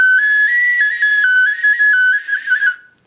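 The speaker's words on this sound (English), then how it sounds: "So you're going to create a whistle pretty small, and it'll have multiple sounds to it" A small handmade ceramic whistle with finger holes is blown in one bright, shrill, continuous tone that steps between a few pitches, warbling slightly before it stops abruptly.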